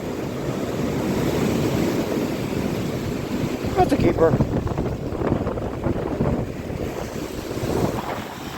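Surf breaking on a cold river-mouth beach strewn with agates and chert, a steady wash of waves and wind buffeting the microphone, with someone speaking briefly over it.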